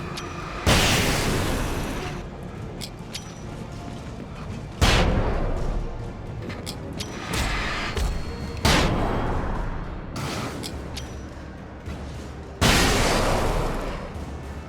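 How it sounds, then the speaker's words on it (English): Flashbang grenade blasts in the video game Alan Wake: four heavy, loud booms spaced a few seconds apart, each with a long rumbling decay and no talk. "I love that piercing sound the flashbang makes when it's tearing the enemies apart."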